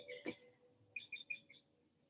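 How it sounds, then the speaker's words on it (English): Faint bird chirps in a quiet setting: an early call, then a quick run of four or five short tweets, distant and soft. "you might hear some of the birds chirping around us"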